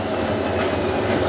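A Hotpoint or Miele washing machine spins at 500 RPM, giving a steady, dense mechanical rumble with a constant low drone that runs unbroken throughout at moderate loudness.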